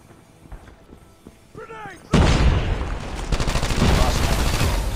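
Type 25 assault rifle fire in the mobile shooter game COD Mobile: after quieter game sounds and a short rising chirp, a loud sustained burst of rapid automatic shots erupts and keeps rattling to the end.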